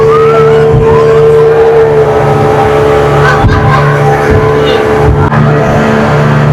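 Speedboat pulling away at speed on open water near a Thai coral island, a loud steady engine drone with rushing hull and water noise, close and continuous.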